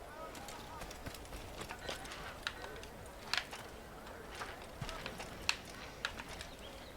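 Horse hooves clip-clop at a quick gallop in the video game Assassin's Creed, a fast irregular patter of thuds with a few sharper hits, moderately faint under a steady background.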